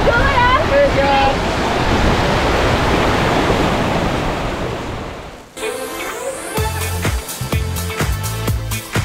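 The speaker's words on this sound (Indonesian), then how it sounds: "Mandi di bawah air terjun setinggi 60 meter" Roaring waterfall plunging 60 metres at Giri Tirta, a loud, steady wash of falling water for about five seconds, then cutting to music with tonal notes.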